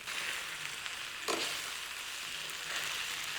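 Chives and bean sprouts hitting a beef kway teow stir-fry, giving a soft, even hiss of sizzling with a brief sharper rush as the vegetables are tossed in, heard fairly quietly and without any talking.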